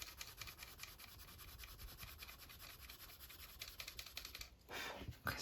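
A Distress watercolour pencil being turned in a sharpener, a steady close scratchy rubbing grind that runs throughout, with a brief louder burst of movement near the end.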